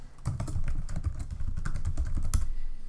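Keys clattering on a computer keyboard as a password is entered, a steady run of quick, close taps with no talking.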